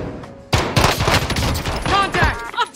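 Dense gunfire in the battle royale shooter Call of Duty Warzone Rebirth bursts in loud and continuous after a quiet half second, with shots layered over one another and voices audible in the mix.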